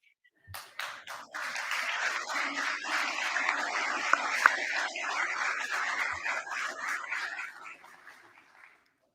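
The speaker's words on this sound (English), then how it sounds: "I ask you to hold your emotion, your applause" An audience at a Garland County Quorum Court meeting breaks into sustained applause, a dense wash of clapping that swells quickly, holds steady for several seconds and then tapers off, with no talking over it.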